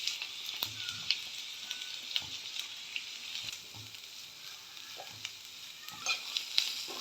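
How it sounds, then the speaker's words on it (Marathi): Vertically sliced onion fries in a spoonful of oil in a kadhai, giving a soft continuous sizzle with scattered pops and occasional spatula scrapes, quiet and close, no talking. "त्याच कढईत मी 1 चमचा तेल घालून घेतलेलं आहे. आणखी आपण स्लाइस केलेला कांदा आहे ना, उभा चिरलेला, तो घालून घेते आहे."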